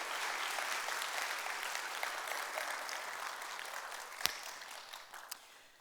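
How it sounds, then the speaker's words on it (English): Audience applause fills a church or community gathering, a steady wash of clapping at moderate distance that slowly thins toward the end, with one sharp louder clap standing out. "So we just applaud you and thank you so much for sharing."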